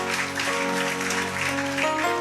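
An audience claps steadily through a pastor's sermon at a school gathering, a dense spread of applause over sustained tonal music underneath.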